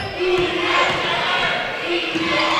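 A women's college basketball crowd roars after a made three-pointer in a Tabor game, a loud, steady wash of cheering and yelling that fills the gym for the whole moment.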